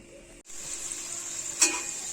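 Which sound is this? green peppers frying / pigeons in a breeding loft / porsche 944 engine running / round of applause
green peppers frying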